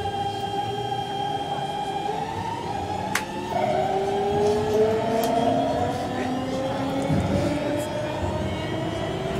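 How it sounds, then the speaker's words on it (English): A Tron train ride passes by with a steady mechanical roar and whining tones that slide up and down as it sweeps past, growing louder midway, with no talking. "And that is the Tron Train."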